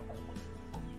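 Desi village chickens, a big rooster among smaller birds, let out a few quick, soft clucks in a short, quiet moment.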